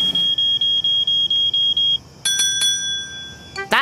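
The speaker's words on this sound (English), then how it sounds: "this is a smoke detector. Every home or garage should have them. They sound an alarm when there's a fire danger." A household smoke detector sounds a series of about seven loud, evenly spaced electronic beeps, followed by a different brighter ringing tone and a short chime, with no talking.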